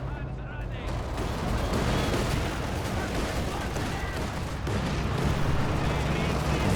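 Tank gunfire and artillery rumble in the Company of Heroes 2 real-time strategy game, including a KV-1 tank in a 1v1 match, forming a dense, continuous stream of booms and blasts with a voice talking over it.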